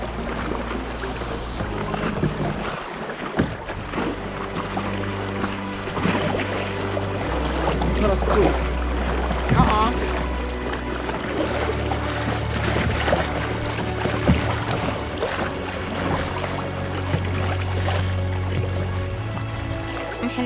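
A kayak on the Dunajec river, with steady water and paddling noise throughout, low boat rumble underneath and voices talking faintly in the background.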